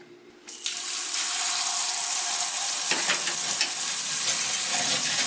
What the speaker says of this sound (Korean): 찬물에 담글 거예요 감자 썰은 거 넣고 음, 그게 한번 헹굴 거야